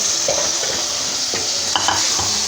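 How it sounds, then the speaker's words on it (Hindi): Turnip pieces sizzle and fry in hot oil in a pan while being stirred, a steady close hiss with occasional scraping stirs, alone without speech. "इसको थोड़ी देर भूनूंगी, अच्छी तरह भून के"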